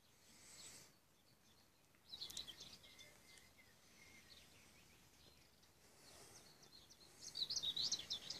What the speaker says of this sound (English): I hope you can hear the birds like I do.